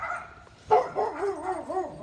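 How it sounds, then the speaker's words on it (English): An upset dog whimpering and yipping close by, with rising and falling whiny cries after a sharper yelp, moderately loud with no speech over it. "My dog is getting very upset."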